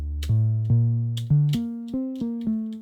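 A deep Digitone 2 synth bass preset plays a short melodic line of sustained notes, each with a bright attack that slowly fades, loud and close with no voices.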